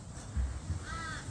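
Crows cawing outdoors: a brief, harsh caw over a steady, rumbling background, heard at moderate distance.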